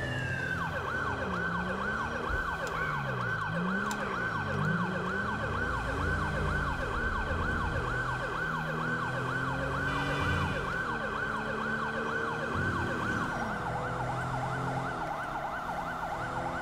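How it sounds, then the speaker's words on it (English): A New Zealand police car siren in the video game GTA 5 wails continuously and loudly, sweeping up and down in a steady cycle with engine noise underneath. "Hopefully it's a Kiwi siren."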